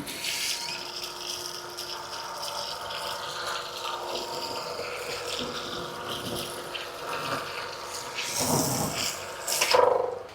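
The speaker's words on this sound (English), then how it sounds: "I just remove the spray nozzle, and that basically makes it come out in less of a jet" Water from a pressure washer with its spray nozzle removed pours onto a car in a steady, close, broad rushing wash that swells louder near the end.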